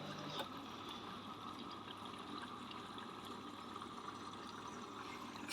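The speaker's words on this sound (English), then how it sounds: "There you can see the washing going round. There it's saturating the clothes." Water sloshing and pouring steadily inside a Hoover H-Wash 300 Lite 10kg washing machine as the drum turns and saturates the clothes, a soft continuous gush with a faint low motor hum, quiet and close.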